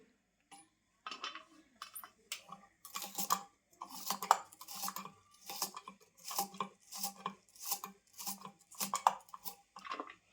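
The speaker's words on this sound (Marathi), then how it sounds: "कारली कापून झाली, मस्त अशी पातळ वगैरे कापून घेतलीत मी" A knife slices bitter gourd (karela) thinly on a board, making a quick series of crisp, close cutting strokes in a steady rhythm that grows more regular as it goes, with brief pauses between bursts.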